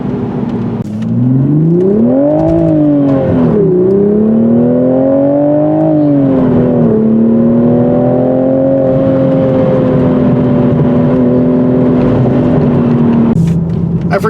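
A 2023 Toyota Supra with a six-speed manual in sport mode, rev matching its downshifts on wet roads. Engine revs swell and fall over several shifts, then settle into a steady loud drone heard from close by.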